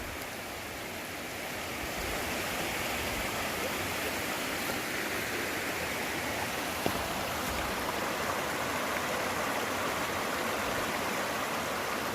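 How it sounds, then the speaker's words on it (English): A steady rush of small forest waterfalls fills the air, a constant broadband roar that grows slightly louder after the first couple of seconds. "That's some nice little waterfalls."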